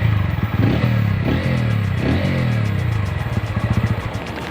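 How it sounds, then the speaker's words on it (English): A TVS Ronin motorcycle engine runs loud and close, a throbbing, pulsing exhaust note with a couple of quick revs rising and falling, then settling into a steady, chugging idle, with no voices. "I thought of letting you hear what the Ronin actually sounds like"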